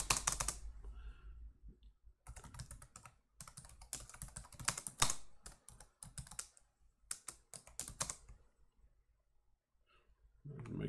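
Code being typed on a computer keyboard in bursts of rapid, close keystrokes separated by short pauses, with soft clicks and little voice in between.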